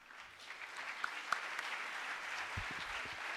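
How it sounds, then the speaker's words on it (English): An audience at a conference applauds its panelists: soft, fairly steady clapping heard from some distance, with a few sharper individual claps standing out and low thumps near the end. "Let's give all of our panelists a round of applause."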